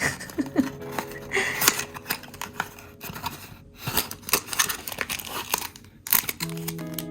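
Packing tape is torn and peeled off a manga package, with repeated sharp ripping and crinkling bursts of varying length, close and fairly loud.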